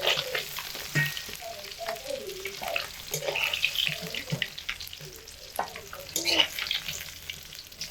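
Pieces of fresh catla fish frying in a wok of hot oil, a steady crackling sizzle with brief stirring clatters, fairly close and continuous, no talking over it.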